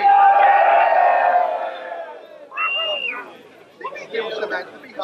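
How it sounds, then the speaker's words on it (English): Crowd at a Volkswagen Beetle show event cheering and whooping, a loud sustained roar that fades, followed by scattered shouts and chatter from the gathered people. "Come on, a round of applause for Debbie!"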